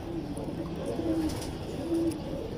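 A champion flying pigeon coos softly in a few short, low calls over a faint background hiss.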